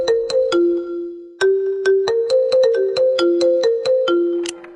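Apple phone ringtone: a bright, clear marimba-like melody of quick plucked notes in a repeating pattern, loud and close, with no voices.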